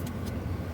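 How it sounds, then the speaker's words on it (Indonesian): A vehicle engine labors on a very steep, high road, giving a short, steady low rumble that stays at an even, moderate level throughout. "ada kendaraan terus gimana ini?"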